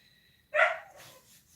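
A single sharp dog bark, fairly close and moderately loud, with a faint whine or yelp trailing after it over a quiet background.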